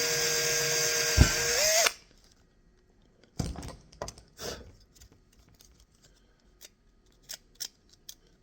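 A small power drill whines steadily while boring a tiny LED hole into a plastic slot car body, then stops, followed by scattered faint scraping and ticking handling sounds.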